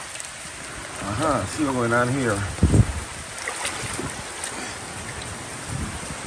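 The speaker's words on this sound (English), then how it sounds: "Rain like crazy." Heavy rain pours onto a roof in Guyana as a steady, close hiss throughout, while someone speaks briefly near the start.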